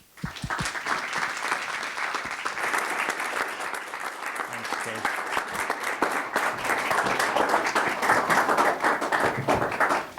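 An audience breaks into warm applause for speaker Colin Beavan at the NYU Reynolds stage, a dense steady clapping that builds and swells toward the end, close and sustained.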